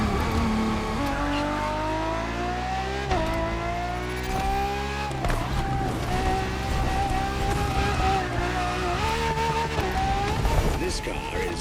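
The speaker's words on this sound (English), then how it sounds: "For this second lap, you'll be driving the FXXK." Ferrari FXXK, a track-only version of the LaFerrari supercar, lapping a circuit: a loud engine note climbing steadily through the revs with repeated shifts and dips, close and continuous from start to end.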